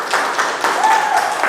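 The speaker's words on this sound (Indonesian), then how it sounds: "tepuk tangan untuk kita semua" Children in a classroom clap together in a short, loud burst, the claps sounding somewhat uneven and bunched over a brief moment.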